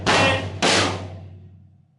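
A bass drum and snare struck together with a floor tom, landing as two loud, booming hits about half a second apart, each ringing out and slowly decaying, with no voices.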